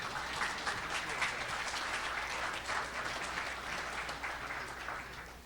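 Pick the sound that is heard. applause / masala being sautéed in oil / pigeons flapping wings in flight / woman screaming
applause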